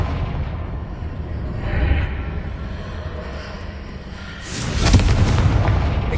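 Confringo explosive spell blast in Hogwarts Legacy, a deep rumbling boom that swells near the end over constant game background noise.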